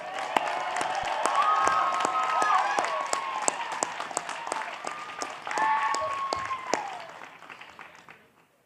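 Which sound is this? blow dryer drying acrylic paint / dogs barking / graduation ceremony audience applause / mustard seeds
graduation ceremony audience applause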